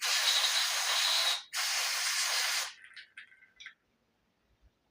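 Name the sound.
spraying cleaner onto a log splitter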